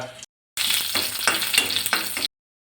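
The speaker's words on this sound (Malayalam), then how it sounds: "കടുക് വറുത്തിടുകയാണ് ചെയ്യുന്നത്" Mustard seeds and curry leaves frying in hot oil, a bright crackling sizzle with popping bursts, loud and close for under two seconds after a brief lead-in.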